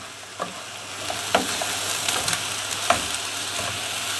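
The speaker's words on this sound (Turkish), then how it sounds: "Şimdi bulgurlarımızı ilave ettik. Bunu biraz kavuracağız." Bulgur is stirred and toasted in a hot pan, giving a continuous close sizzle broken by scattered spoon scrapes and clicks.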